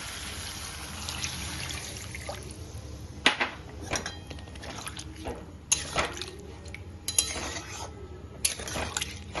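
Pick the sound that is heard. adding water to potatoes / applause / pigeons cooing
adding water to potatoes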